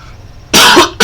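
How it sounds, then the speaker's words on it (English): Two abrupt, loud coughs burst out close by from a person: a longer harsh one followed by the start of a second, after a quiet room tone. "let me drink some water so I get rid of this cough"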